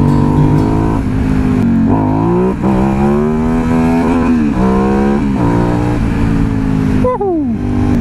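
An Aprilia Dorsoduro 750 motorcycle engine revs up and down steadily, its pitch rising and falling in waves, heard close and loud through a helmet microphone with constant rumble throughout.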